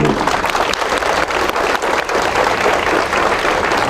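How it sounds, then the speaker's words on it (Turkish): An audience at a Turkish gathering breaks into sustained, loud applause, dense rapid clapping that fills the whole stretch without a pause. "alkışlayalım Erzincan gibi"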